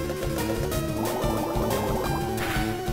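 Bubble attack from the Game Boy Advance game Pokémon FireRed, a quick burst of watery, bubbling blips layered over busy in-game music for about three seconds.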